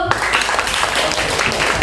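A classroom of students clapping for presenting groups, dense brisk applause throughout the short moment, close and fairly loud.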